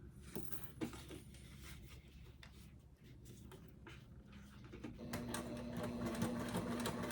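A sewing machine stitches a strap in continuous runs, its rapid mechanical chatter moderately close and growing steadier and slightly louder toward the end, with a faint hum beneath.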